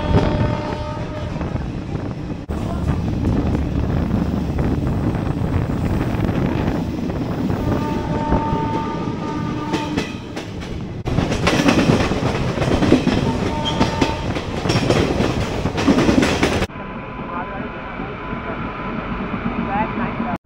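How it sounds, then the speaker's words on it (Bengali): A Kolkata–Digha special passenger train rolls along the rails on its first run, a steady loud rumble and rattle of wagons that shifts in tone as it goes, with voices talking over it. "আমাদের ট্রেন ছেড়ে দিল কলকাতা স্টেশন থেকে।"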